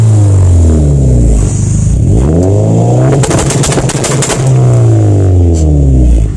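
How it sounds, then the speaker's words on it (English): A tuned Honda engine revs hard into its ignition-cut rev limiter, the loud howl rising and falling through repeated sweeps, with a quick burst of sharp pops and bangs in the middle, heard up close. "going down on the milliseconds is kind of like a quicker race car sounding rev limiter"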